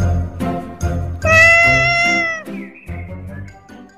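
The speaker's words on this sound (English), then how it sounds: "C for cat." Cat meowing, a clear drawn-out tonal meow after short sounds at the start, set against a children's alphabet song backing.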